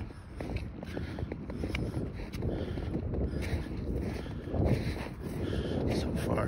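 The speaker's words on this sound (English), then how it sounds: "A little windy." Gusty wind buffets the microphone on an exposed mountain trail in Grand Teton National Park's Teton Crest Trail, a steady broadband rush with footsteps on loose ground and brief talk mixed in.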